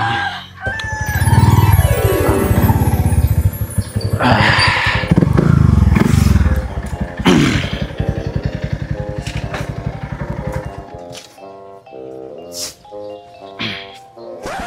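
A motorcycle engine revs and putters up close, then idles in fast rhythmic pulses, with rooster-like calls mixed in early on.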